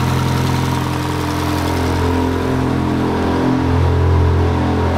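A Ferrari engine runs after a fuel pump repair, giving a loud, close, steady idle with a deep throbbing rumble and slight shifts in pitch toward the end. Nobody speaks.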